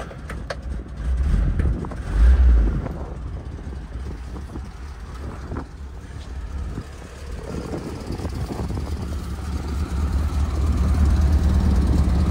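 A 1969 Volkswagen Combi T2a Westfalia van engine turns over and settles into a steady, moderately loud idle, with a short louder burst around the start and a low continuous rumble throughout.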